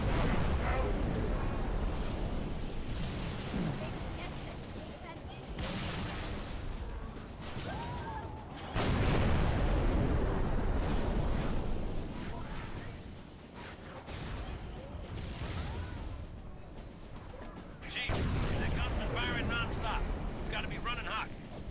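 A mounted gun fires in Halo 3 in continuous, heavy booming bursts with rumbling explosions throughout, mixed under ongoing voices talking.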